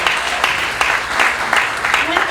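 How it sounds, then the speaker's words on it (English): An audience claps for a speaker named Barbara at a networking event, with a steady wash of applause across the whole stretch and a voice speaking over it. "Give her a big round of applause"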